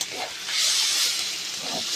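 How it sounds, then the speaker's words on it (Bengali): Hot water goes into a pan of sizzling fish curry (macher kalia) with tomato and potato, giving a brief loud steamy hiss that swells and fades over about two seconds. "এইবার আমি দিয়ে দেবো গরম জলটা।"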